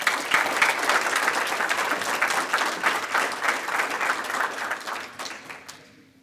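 A luncheon audience at a Kiwanis Club scholarship awards event gives the honorees a final round of applause, with dense, lively clapping that carries on for several seconds and then fades out.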